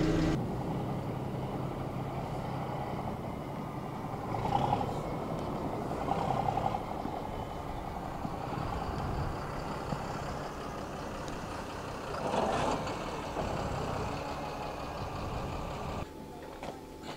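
A military truck in Somalia rumbles along at a steady low drone, with a few louder thuds and surges as it rolls over road humps, and no one speaks.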